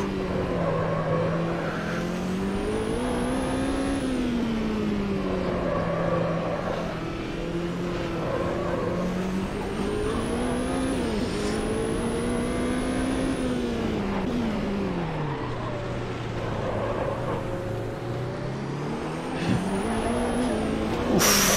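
Race car engine in the Automobilista 2 sim racing game revs and bogs as throttle is applied mid-corner and the car slides round, with a loud, continuous engine drone, rising and falling pitch, and faint tire squeals.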